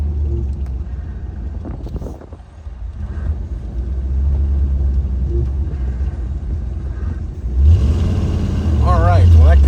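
A 1975 Chevrolet Corvette Stingray engine rumbles steadily from inside the cabin, swelling louder near the end as it accelerates, with some road noise.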